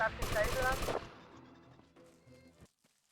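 An MP5 submachine gun fires a rapid burst in a GTA video game, loud for about a second before fading into echoing tails and clatter, with no speech.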